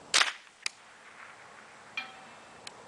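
A Ruger 10/22 rifle firing .22 LR at a 12-inch steel bullet trap 300 yards away gives one sharp outdoor crack. A few fainter, brief ticks follow, and there is no talking.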